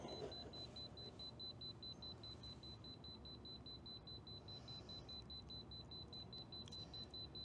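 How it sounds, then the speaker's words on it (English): An EMF meter alarm sounds beside a Starlink Mini dish as a steady train of short, rapid, high-pitched electronic beeps repeating evenly at low volume over faint background hum. "So you can hear the alarm going off"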